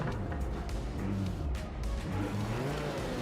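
A Lamborghini race car in Project Motor Racing drones steadily throughout, its engine note rising and falling with a faint tire scrub, continuous and close with no voices over it.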